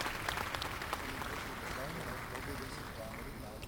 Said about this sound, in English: giving these judges a round of applause for a great job judging our junior shows